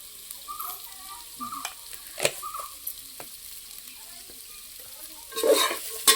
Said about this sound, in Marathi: तर बिया परतून झाल्या.